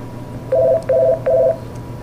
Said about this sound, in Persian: مثل که تلفن این عزیز قطع شد